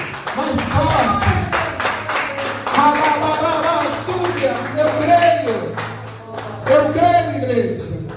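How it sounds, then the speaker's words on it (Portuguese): A church congregation claps loudly and rhythmically in a Portuguese-language worship service while a preacher's amplified voice talks and calls out over the sharp, repeated claps throughout. "Se coloque de pé e dê uma salva de palmas bem forte para Jesus."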